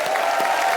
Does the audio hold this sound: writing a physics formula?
no